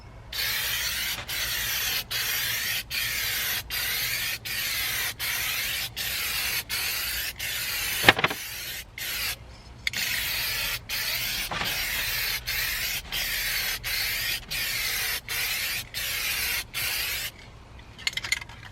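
Spray paint can laying a finish coat on an RV dashboard, heard as a close, steady hiss in repeated bursts separated by brief pauses, with a couple of short rattles between passes.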